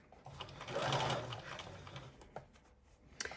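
A sewing machine stitches along the seam of a fabric scrunchie hair band in a steady whirring run, pausing briefly before short bursts of reverse stitching, close and moderately loud.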